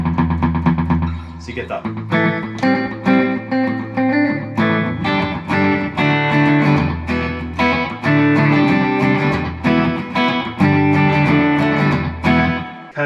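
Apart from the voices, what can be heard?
electric guitar through Boss DD3T digital delay pedal, slapback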